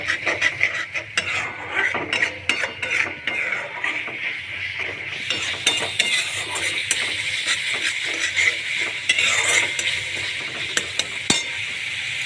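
Masala being fried and stirred on a high flame for an Odia prawn curry, a continuous hiss of sizzling broken by repeated scraping and clinking of a utensil against the pan, no talk.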